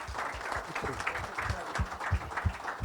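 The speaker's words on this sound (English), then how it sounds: "Give them a big round of applause." Audience at a tech day event clapping for a panel at the close of its discussion, a modest, moderately distant patter of hands with a steady uneven rhythm.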